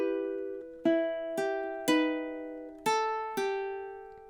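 A ukulele plays the first measure of a song's chorus: about six clean plucked notes and chords in a steady rhythm, each ringing briefly, close and moderately quiet, with no talking.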